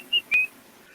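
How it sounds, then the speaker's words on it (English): A man whistles a merry tune while prancing away, two short bright whistled notes, the second held slightly longer, near and clear over a quiet background. "whistling a merry tune."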